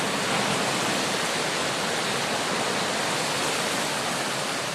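Strong wind and crashing surf fill Dorothy Beach with a dense, continuous roar of rushing noise. It is loud and unbroken throughout, with no distinct voices.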